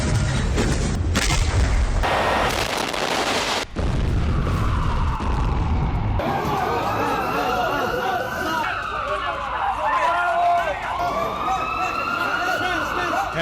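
Explosions and artillery fire over Gaza: heavy booms and blasts at the start, then a wailing siren that rises and falls, with a voice talking over much of it.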